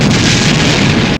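A big explosion in an 1980s Andy Sidaris action film, a loud, dense roaring blast that fills the whole moment and cuts off abruptly, with no voices.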